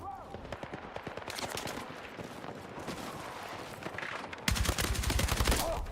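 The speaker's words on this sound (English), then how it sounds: "2 people shooting at me right there" Rapid automatic gunfire from two players shooting in the Battlefield 6 battle royale game, with a steady stream of dense shots that grows louder and harsher near the end, under faint talk.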